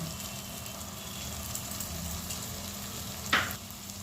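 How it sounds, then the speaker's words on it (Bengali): Chili paste dropped into a spice masala with oil separating, frying in a pan with a low steady sizzle and faint stirring, then a brief louder splattering hiss near the end. "এবার আমি এতে ওই যে লঙ্কার পেস্টটা করে রেখেছিলাম গুঁড়ো লঙ্কার, সেটা আমি এর মধ্যে দিয়ে দিলাম"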